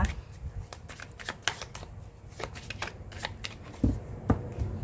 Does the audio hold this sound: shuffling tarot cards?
yes